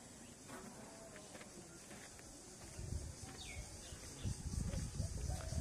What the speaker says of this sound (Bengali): সারাক্ষণ ঝিঝি পোকা ডাকছে, বিভিন্ন রকমের পাখলি ডাকছে।